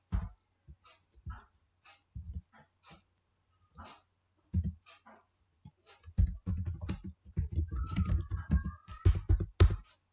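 Typing on a computer keyboard during accounting data entry, isolated key clicks at first, then denser bursts of keystrokes, with a brief higher tonal sound near the end.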